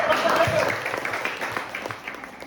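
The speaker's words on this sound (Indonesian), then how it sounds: "Tepuk tangan untuk." A short burst of audience applause follows a classroom math answer, dense clapping that fades quickly, with a voice speaking over it.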